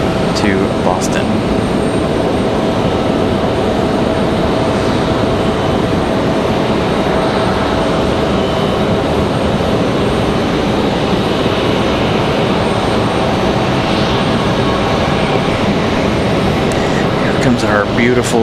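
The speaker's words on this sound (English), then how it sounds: "A300 back to Boston." An Airbus A300 jet departs Raleigh-Durham International bound for Boston, its engines a loud, steady broadband roar that fills the whole stretch without letting up.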